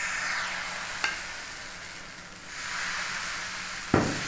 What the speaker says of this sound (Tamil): இப்போ நம்ம தோசை ஊற்றிக்கிடுவோம்